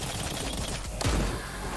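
A single Bulldog shot in a shooter video game, a sharp loud crack rising out of steady background game noise, with a low boomy tail and no talk.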